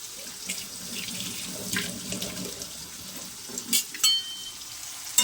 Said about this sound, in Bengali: এপাশে দেখো পেঁয়াজটা আমার প্রায় ভাজা ভাজা হয়ে এসেছে